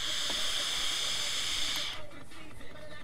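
A strong, steady airy hiss of air drawn through a vape atomizer's dual airflow holes, close up, cutting off abruptly about two-thirds through.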